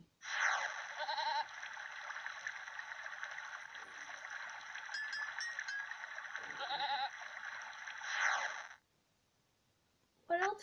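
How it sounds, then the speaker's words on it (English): Goat bleating in the video game There Is No Game: a loud, wavering cry holds for about eight seconds, then silence, and a new bleat starts at the very end. "Is there really a goat?"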